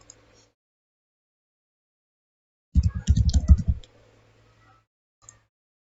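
A computer mouse clicked during mapping software work, heard as a short close cluster of sharp clicks in the middle of an otherwise quiet stretch, with a faint click near the end.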